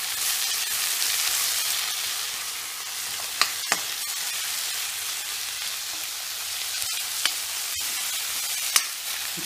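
Curry leaves frying in oil with ginger and garlic, a steady bright crackling sizzle with occasional sharp pops, close and even throughout.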